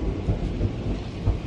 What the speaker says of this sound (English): That was some thunder.